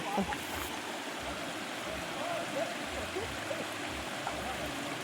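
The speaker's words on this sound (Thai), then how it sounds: "นึกว่าน้ำไหลไม่ใช่นะทุกคนปลาลงตู้" Water pours into a tank along with small finger-sized fish from a cast-net catch, making a steady, continuous rushing flow with brief splashes, and voices are faintly audible underneath.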